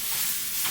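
Sausage sizzling in a pan, a steady crackling hiss that holds evenly across a short moment, fairly close and moderately loud, with no voices over it.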